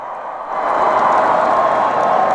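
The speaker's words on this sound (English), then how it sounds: "Needs a round of applause." Rally crowd applauding at an Iowa City concert and campaign rally, a dense wash of clapping and cheering that swells after the first half-second and stays loud and steady.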